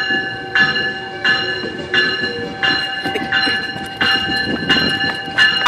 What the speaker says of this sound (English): I'm running the same speed as the train! Ha! I'm faster than you, GO Train!